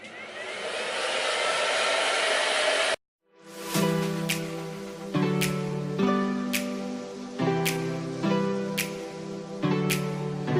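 A GHD hairdryer blows loudly at first, then cuts off; afterward rhythmic paddle brush strokes repeat with a steady motor hum underneath.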